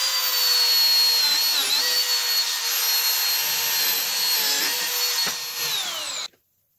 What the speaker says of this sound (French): on coupera le lamello qui dépasse